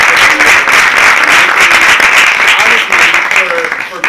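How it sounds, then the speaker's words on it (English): A loud, close burst of clapping from a small audience during a conversation with a guest about education, with voices talking over the continuous applause. "I just want to give you another round of applause."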